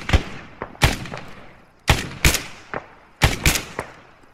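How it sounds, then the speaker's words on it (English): Rifle gunfire in the video game Arma 3: sharp, loud shots fired singly and in quick pairs, in three short clusters with brief pauses between them. "Oh, you're shooting at that guy."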